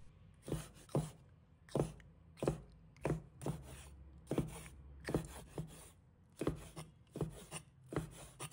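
A knife chops cleaned squid into rings on a cutting board, giving close, crisp thuds in short irregular clusters, roughly fifteen cuts with brief pauses between them.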